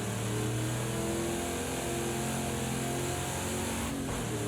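Sustained high-revving race engine of a 1969 Chevrolet Camaro Trans Am in Project CARS 2 at Rouen Les Essarts, a loud steady mechanical drone with layered harmonics and a brief lift off the throttle near the end, no speech.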